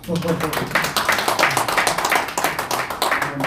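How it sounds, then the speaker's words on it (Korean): A crowd claps together in a brisk burst of applause, dense and lively, with a voice audible among the claps. "박수 한번 쳐주시죠"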